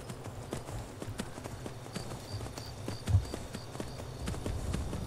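Horse hooves clip-clopping in Skyrim as the mount is ridden, a steady run of light, evenly spaced thuds heard alone for several seconds.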